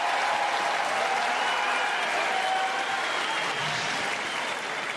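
Crowd applause at a wheelchair tennis match, steady, full and sustained for the whole stretch, a broad wash of clapping with no talk over it.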